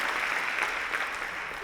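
Brief burst of audience applause at a conference, a steady dense clatter of many hands clapping at moderate loudness, fading slightly toward the end.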